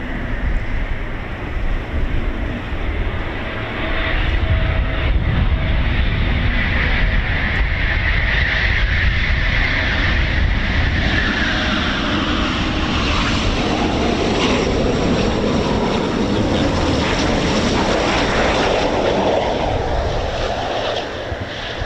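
Eurofighter Typhoon FGR4 fighter jet approaching to land at RAF Coningsby, a loud sustained roar of jet engine noise with a shifting whine, steady and powerful throughout.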